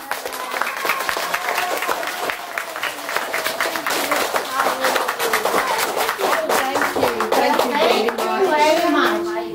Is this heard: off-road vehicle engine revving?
no